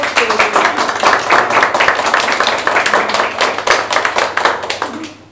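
A small audience claps after a lecture on the heritage listing of Brasília, with distinct, close, uneven hand claps in a steady patter that dies away at the end.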